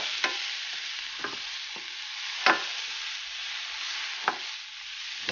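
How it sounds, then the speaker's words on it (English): Mushrooms, onions and peppers sauté in a pan: a steady soft sizzle runs throughout, broken by about six scraping stirs of a utensil, close and moderately loud, with no talking. "Continue sauteing."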